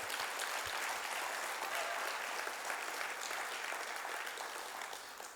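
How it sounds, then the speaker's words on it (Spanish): A church congregation applauds in a full, sustained wave of clapping that fills the hall, holding steady and tapering slightly toward the end, with no speech. "Y dale el mejor aplauso que tengas para Él."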